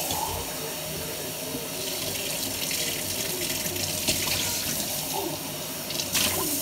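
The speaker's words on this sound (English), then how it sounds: "Just fill it up with water." Tap water runs steadily into a sink while breast pump parts are rinsed, a continuous close splashing hiss with slight swells in flow and no talking.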